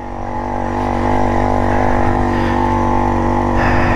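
A BT100 motor on a motorized bicycle runs during a ride, a loud, close, buzzing drone that climbs in pitch as it accelerates, then holds a steady high-revving whine with slight wobbles. No voices are heard.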